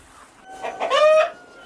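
A short, close Serama rooster call, a rising throaty cluck that swells and fades within about a second.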